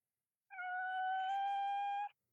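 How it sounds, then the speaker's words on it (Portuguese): A pet cat lets out one long, drawn-out complaining meow, close and clear, lasting under two seconds in an otherwise quiet room. "Não foi bem um miau, né, foi uma reclamação."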